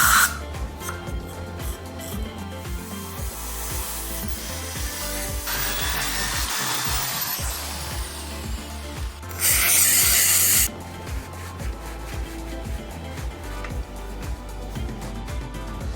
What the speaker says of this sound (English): Clean the parts of old grease.